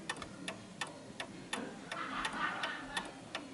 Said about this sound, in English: notice how it's actually ticking perfectly fine. The tick and the tock are perfectly even.